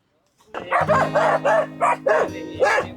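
Dogs bark in a rapid series of loud, close barks, one after another, with a low steady hum underneath.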